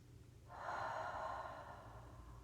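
A long, deep exhale, breathy and airy, rushes out steadily during a Pilates exercise, starting after a quiet moment and fading gently toward the end.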